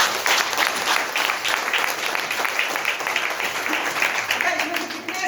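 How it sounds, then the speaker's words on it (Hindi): Audience at a stage talk giving loud, sustained applause, a dense continuous wash of clapping throughout. "एक बार अपने लिए जोरदार ताली।"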